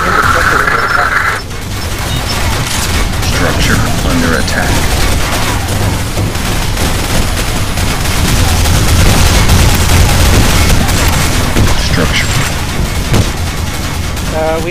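Constant gunfire and grenade blasts pound through a Nuclear Dawn firefight on the Silo map, a dense, loud, unbroken barrage that runs the whole stretch while voices speak over it.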